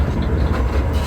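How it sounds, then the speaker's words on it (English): Miniature railway train running through Wicksteed Park on a journey around the lake, a loud continuous low rumble of the moving ride with steady wheel and track noise close by. "Here we go then, on the park's railway."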